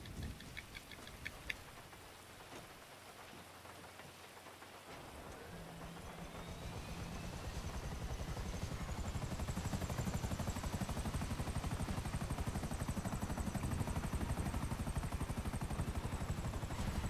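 A helicopter in GTA 5 Online, its rotor chop rising from faint to a steady, dense whirring that holds loud and continuous, alone without talk.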